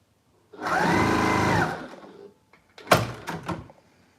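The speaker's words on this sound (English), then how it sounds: "I am going to sew my seams, press my seams open" A sewing machine runs one sustained seam on quilt border strips, loud and close for about a second, followed by a few sharp clunks and handling knocks, with no voices.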